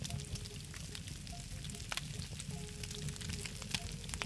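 Steady crackling sizzle of chicken and steaks frying over a fire in the video game SCUM, soft popping spread across the whole stretch with no voices.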